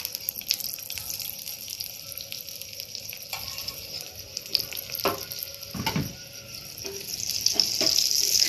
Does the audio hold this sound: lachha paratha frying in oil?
yes